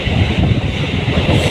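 A Hyderabad local train runs between closely spaced stations near Bharat Nagar, its loud, steady rumble and rattling wheel noise filling the whole moment from inside the carriage, with no voices.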